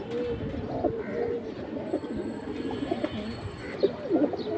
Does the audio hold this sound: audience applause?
no